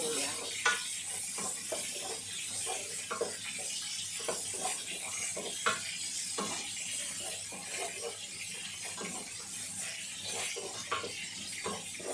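Onion and garlic sauté in a pan beside half-fried chicken, giving a steady soft sizzle with faint scraping and stirring clicks throughout, close and moderately quiet.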